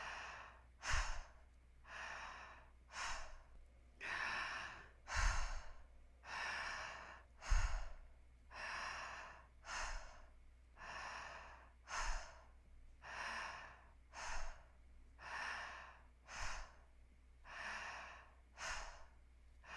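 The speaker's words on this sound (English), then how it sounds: "You're doing so well to stay with the breath, inhaling, exhaling." Slow, deep breaths in and out repeat at a steady rhythm, each one a soft airy rush with faint snorty onsets, close and quiet with no other sound.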